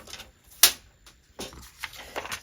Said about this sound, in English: Just cut that piece off.